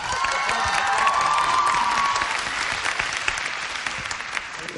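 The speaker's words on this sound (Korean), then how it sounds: "여러분 큰 박수 부탁드립니다." Audience applause at the 2012 MBC Drama Awards, a loud, full burst of clapping with scattered cheers from the crowd, holding steady and easing off slightly toward the end.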